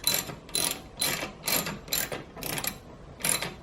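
Ratchet tightening a screw on a Saab 9-3 air intake: seven evenly spaced bursts of fast clicking, each about a quarter second long, close and clear with short pauses between strokes.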